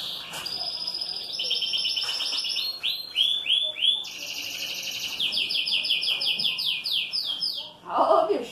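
A canary in a breeding room sings a long, loud, rapid series of trills and chirps, with brief rustling near the end.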